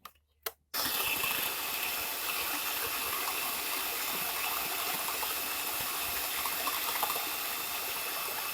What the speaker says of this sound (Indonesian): Ini proses pengocokan telur ya dengan mixer.